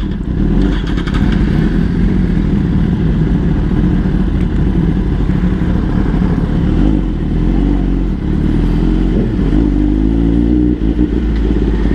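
A Kawasaki ZX-10R sport motorcycle with an Arrow full-system aftermarket exhaust rides past close by, its loud engine rumbling steadily with occasional rises in revs.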